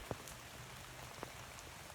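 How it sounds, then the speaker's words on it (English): Light rain falls at Killarney Lake on Bowen Island: a soft, steady patter with a couple of distinct drop taps, quiet and close. "It started to rain."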